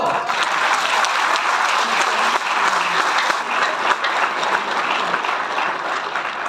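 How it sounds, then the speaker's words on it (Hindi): An audience at a direct-selling seminar claps loudly and steadily, a dense continuous burst of many hands with faint crowd murmur throughout. "मेरे डायरेक्ट सेलर का पैसा बचा है भाई, ताली बजाओ।"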